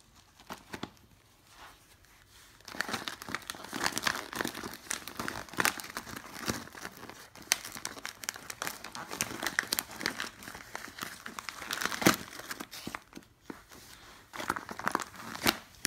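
A toddler unwrapping Christmas presents at home, with wrapping paper crinkling, tearing and crunching in dense, irregular bursts for several seconds after a quieter start, close and moderately loud.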